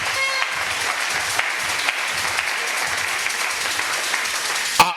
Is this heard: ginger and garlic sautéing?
no